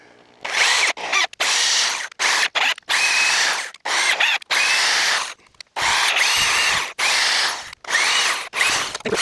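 A power drill whirs loudly in repeated bursts, stopping and restarting about a dozen times as it bores through a wooden utility pole.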